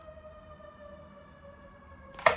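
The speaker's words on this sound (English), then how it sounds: "As the sirens go off in the background" A steady siren wails in the background, holding level tones throughout before a brief louder burst of noise at the end.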